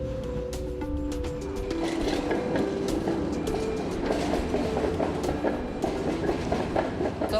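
A tram on Sofia's Route 12 rolls steadily along its rails, wheels clacking rhythmically with squeals and metallic tones, close and continuous throughout.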